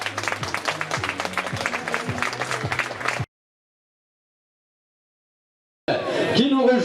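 An audience at a cycling team presentation for the first Classic Grand Besançon Doubs applauds the Gazprom team: dense, steady clapping for about three seconds, then abrupt silence, then crowd noise returns briefly.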